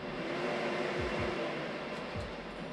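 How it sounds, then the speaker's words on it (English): A workshop dust collection vacuum system, ducted to an attic filter and hooked up for sanding a bandsaw box, runs with a steady, loud rushing whoosh of air for the full length, with faint low rumbles beneath. "I'm going to hook up my vacuum system to it."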